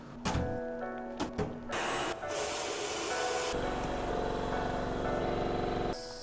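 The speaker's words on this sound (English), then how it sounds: "Let's start by putting these in the sandblaster." Sandblaster blast cabinet running on metal coins, loud steady hissing blasts that start and stop in short bursts, then one long continuous roaring blast before cutting off.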